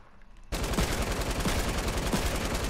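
Rapid gunfire from a gun in the video game Fortnite bursts in abruptly after a quiet half-second and continues as a loud, close, sustained volley of repeated shots.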